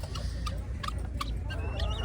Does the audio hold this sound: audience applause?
no